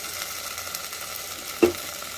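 Tomato and ground chili masala simmering in a pan, giving a steady soft sizzle and bubbling with one brief louder pop of spatter; no one talks.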